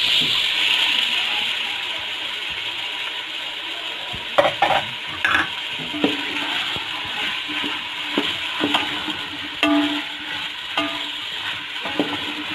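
Peas fry in a pan under a constant hiss of oil, while a spoon stirs and scrapes against the metal in scattered clinks and knocks, close and moderate in level, with no talking.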